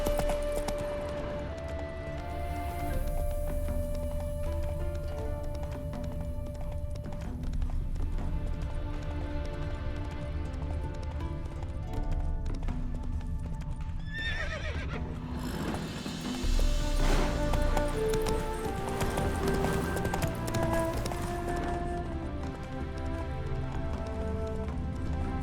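Horse hooves clopping steadily in The Witcher 3: Wild Hunt, over a continuous game soundscape with music and ambience, with a brief burst of louder activity midway.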